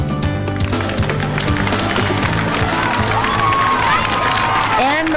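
A crowd cheers and shouts for runners sprinting to the finish line at Tavern on the Green during the 1994 Advil Mini-Marathon, a loud sustained roar with whistles and clapping mixed into the din.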